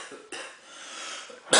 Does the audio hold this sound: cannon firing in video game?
no